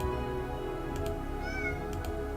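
A pet cat meows in a couple of short, high calls over a steady background hum, fairly close but not loud.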